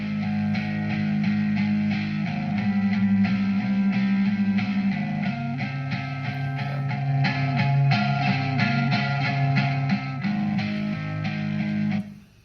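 Layered, fuzz-distorted rhythm electric guitars chug through a steady chord progression, loud and continuous, with no voices.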